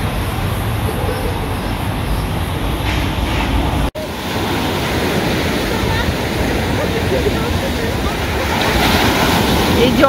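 Sea waves wash continuously onto a beach, a loud, broad roar of surf mixed with heavy wind buffeting the microphone, steady throughout with one brief dropout partway through.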